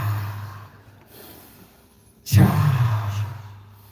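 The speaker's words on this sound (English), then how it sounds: "How do you exhale? In a way that releases all the air out of your lungs." One sudden, forceful exhale through the mouth, breathy and close, fading out over about a second.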